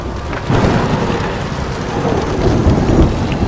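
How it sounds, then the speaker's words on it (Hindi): Steady heavy rain with rumbling thunder rolls through a Hindi audio story, a dense continuous downpour with low booming swells that stay loud and close throughout. "बाहर बारिश भी शुरू हो गई"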